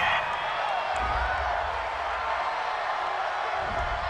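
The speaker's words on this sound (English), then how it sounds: "This home crowd, they're happy with that call." A home stadium crowd in a football video game at the AFC Championship, Steelers at Dolphins, roars steadily after a penalty call, a broad continuous cheer with scattered whoops that holds at an even level throughout.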